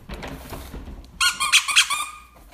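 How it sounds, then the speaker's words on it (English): Squeaky peanut butter and jelly sandwich dog toy being squeezed, a few quick high-pitched squeaks in a short burst, close and clear after a moment of soft rustling. "squeaky toy peanut butter and jelly sandwich"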